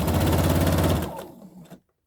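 A sewing machine runs in a fast, even stitching rattle while sewing a fabric tube for a scrunchie. It stops abruptly after about a second, and a brief fainter clatter follows before silence.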